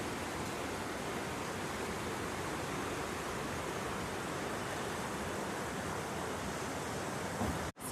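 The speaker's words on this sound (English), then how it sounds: "Quite a fast river." The fast-flowing River Tees gives a steady, dense rush of water, broadband and continuous throughout, ending with an abrupt cut.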